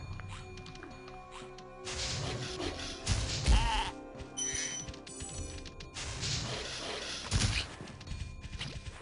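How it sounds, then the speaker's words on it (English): Sheep bleat in the Spyro the Dragon video game, several short bleats mixed with thumps, crashes and game music, no voices over them. "He's a sheep!"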